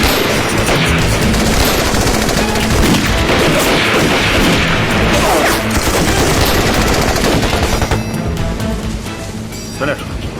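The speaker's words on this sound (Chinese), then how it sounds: "除了鬼子用的机枪之外，还有一种枪声我从来没听见过" Heavy Japanese machine-gun fire mixed with rifle shots rattles without pause during a village battle in a Chinese anti-Japanese war film, loud and dense throughout with voices faintly under it.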